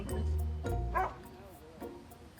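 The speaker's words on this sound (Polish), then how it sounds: "Cztery psy." Several large dogs of over 30 kilos each, crated for airport cargo loading, give short close barks and yips, with whimpering and some talk in the background.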